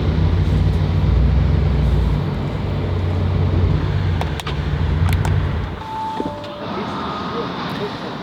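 A Lamborghini Gallardo engine running roughly at idle, with a loud low droning rumble that drops away partway through, followed by faint clicks and tones.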